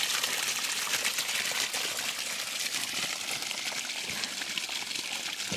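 Creek water rushes and gurgles steadily nearby, a constant close flow with no talking.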